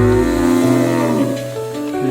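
Cows moo in long, low, drawn-out calls, close by and loud, one overlapping another.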